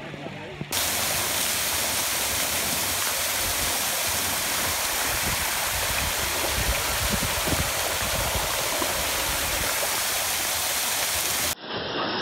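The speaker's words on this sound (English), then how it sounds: "The water is hot, hot springs." Water flows at natural hot springs in Santa Rosa de Cabal, Colombia, making a loud, dense, steady rush that begins abruptly and keeps up without a break for about eleven seconds before cutting off.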